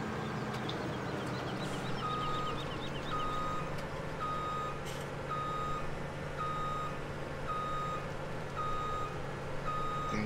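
A farm vehicle backing up sounds a steady series of reversing beeps at even intervals over a constant engine rumble. No one speaks.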